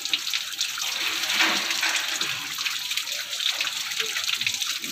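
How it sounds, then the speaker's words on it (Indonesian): Cold water is poured and splashed over the starter of a Mitsubishi Canter truck, a steady broad hiss of running liquid that stays fairly loud and continuous throughout, with no talking. "Kita siramnya pakai air dingin aja."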